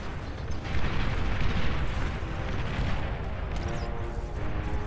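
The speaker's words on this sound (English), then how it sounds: "that was a sick bombing run" Bombers in the strategy game Beyond All Reason drop a run of bombs, producing a dense, continuous rumble of overlapping explosions and booms rolling on without a break.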